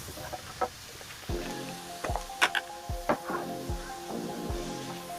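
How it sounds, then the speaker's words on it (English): Smash burgers sizzling on a Char-Griller Flat Iron griddle, a steady close fry hiss broken by several sharp scrapes and clanks of a spatula. "And while that's happening, before I flip these"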